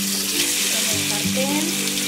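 Chicken frying in a skillet for chori pollo: a loud, dense, continuous sizzle with faint clinks beneath, close and steady throughout.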